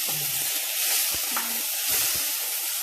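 Tomatoes tipped into a hot pan for a mint-tomato chutney, a steady loud broadband sizzle and hiss running throughout with a few faint knocks.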